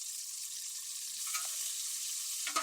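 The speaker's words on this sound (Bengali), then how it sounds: "এখন আমরা দিব হলো 1 মুঠ মতো কুচি করা পেঁয়াজ।" Chopped onion fries in oil in a wok as a bright, continuous sizzle that stays loud and steady, with a couple of brief stirring bumps near the end.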